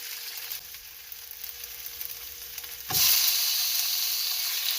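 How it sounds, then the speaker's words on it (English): Meat dropped into a hot pot of browned garlic for kimchi stew, bursting into a loud, steady sizzle and frying hiss close by after a quieter stretch of gentle cooking. "now we can add our meat."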